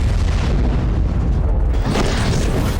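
A missile strike explosion in Kyiv during a Russian attack, heard as a loud, sustained low rumble and roar that swells again near the end, with no voices.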